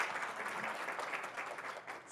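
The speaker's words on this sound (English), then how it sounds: "Please give her a round of applause." Audience applause for a keynote speaker at an event on first-generation high earners, a brief, moderately distant burst of steady clapping from a crowd.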